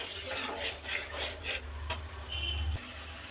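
Fried prawns being stirred into curry masala in a pan, rhythmic scraping strokes of a utensil over a soft sizzle, close and moderately quiet.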